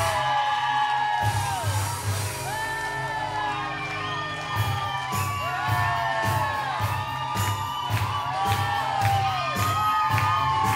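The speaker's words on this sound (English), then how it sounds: "The crowd's going mad out there." A crowd at an Irish dance show cheers, whoops and shouts loudly and continuously over pulsing 80s-style music, with high children's yells rising throughout.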